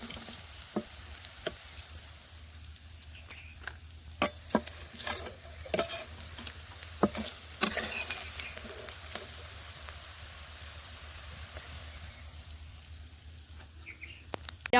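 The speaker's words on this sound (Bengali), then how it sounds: "আর এক পিঠ ভাজার জন্য পিঠ উল্টে দিয়েছি বড়া" Drumstick flower fritters fry quietly in a pan with a soft, continuous sizzle, broken by occasional sharp knocks and stirring sounds, while faint birdsong carries in the background.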